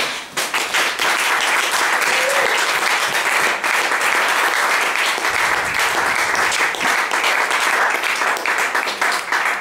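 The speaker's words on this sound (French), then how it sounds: "Acclame le Seigneur." A church congregation at a worship service applauds the Lord with loud, sustained clapping that fills the room without a break, with a few faint voices mixed into the crowd.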